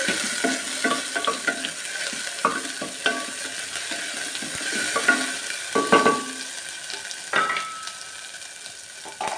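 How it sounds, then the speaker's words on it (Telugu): Ginger garlic paste fries in a hot pan with a steady sizzle, broken by stirring scrapes and clinks from a spoon, fairly close and continuous with no voices. "ఒక స్పూన్ అల్లం వెల్లుల్లి పేస్ట్, కొంచెం పచ్చివాసన పోయేదాకా వేయించి"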